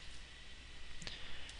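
A single computer mouse click sounds once, short and crisp, against a quiet steady background hiss while inserting HTML on a web page editor.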